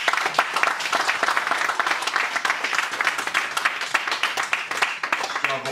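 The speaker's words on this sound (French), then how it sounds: "Je pense qu'on peut applaudir nos trois intervenants." An audience claps steadily in a sustained burst of applause for three speakers at a conference, with a voice speaking faintly under it.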